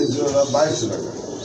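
Pigeons at a bird sale cooing in low, throaty bursts close by, mixed with someone talking over them.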